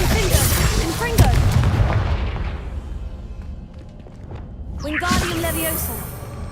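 Confringo blasting-curse explosions in the game Hogwarts Legacy, loud booming bursts with crackling debris, a heavy blast near the start and another around five seconds, with a decaying rumble between.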